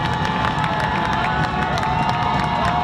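A Highlands football crowd cheers and roars steadily and loudly in a stadium during a tight game, a dense wall of voices with scattered whoops that never lets up.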